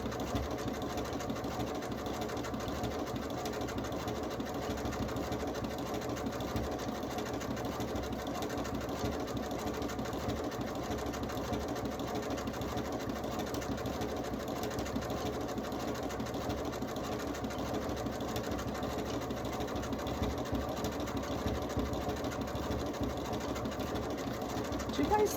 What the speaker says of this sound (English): I'm just stitching right over the ribbon.